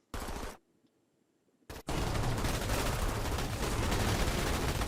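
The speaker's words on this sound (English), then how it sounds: "Only part of that squad is firing, which is fine." Sustained automatic gunfire from an infantry squad in the video game Starship Troopers: Terran Command, a loud dense burst, a brief pause, then heavy continuous firing that runs to the end with no speech over it.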